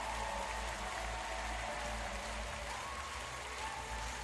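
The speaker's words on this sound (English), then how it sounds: "我らがブレックスに大きな拍手を。" An arena crowd at a Utsunomiya Brex basketball game in Nikan Arena Tochigi applauds the home team's win, a dense, steady wash of clapping throughout.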